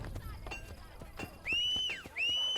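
A horse from the video game Assassin's Creed Brotherhood trots with steady clip-clop hoofbeats and gives two shrill whinnies, loud and close over game background noise.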